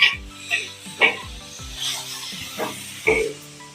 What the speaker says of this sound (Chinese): 油热呢，倒入我们刚刚切好这个生姜碎，还有这个柠檬黄皮碎啊。 放上去呢，翻炒一会儿。